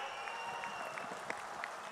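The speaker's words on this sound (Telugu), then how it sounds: "గట్టిగా చప్పట్లు కొట్టి హర్షాన్ని ఆమోదాన్ని" Faint, somewhat distant applause from a crowd at a farmers' meeting in Andhra Pradesh, a brief patter of many hands clapping.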